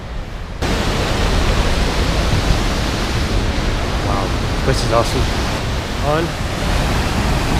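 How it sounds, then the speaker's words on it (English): An Icelandic waterfall roars as a broad, loud, continuous rush of falling water and spray, with a person speaking briefly over it. "Wow, look at the spray off the waterfall"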